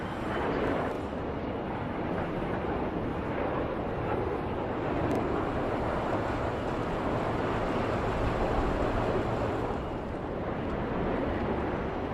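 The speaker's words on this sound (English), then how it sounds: "The sky is alive with airplanes." A broad, steady roar of airplanes fills the air overhead during cruise season near Miami, constant and moderately loud with no pauses.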